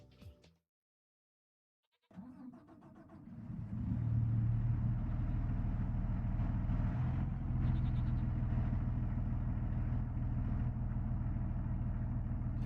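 A tractor engine in Farming Simulator 25 cranks after a brief silence, then settles into a steady, loud low rumble that holds continuously without talk.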